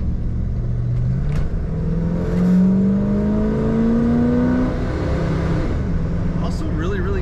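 A 1962 Chevrolet Impala 2-door hardtop engine rises smoothly in pitch through a throttle blip and then settles back toward idle, close by, with someone talking over it.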